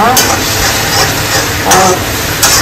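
Spices sizzling and frying in a pan while poha is being prepared, with steady crackle and a few brief louder bursts of stirring scraping against the pan, close and continuous.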